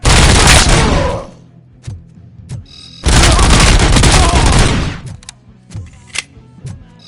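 Bursts of gunfire from a shootout in the PS5 game Robocop Rogue City: two long, loud, rapid fusillades, each a second or more, separated by scattered single shots and thuds, close and sharp, with no speech.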